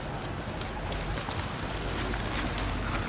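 Pigeons coo outside St Thomas Church in Ryde, soft low calls half-buried in a steady hiss of outdoor background noise, fairly faint and continuous with no clear speech.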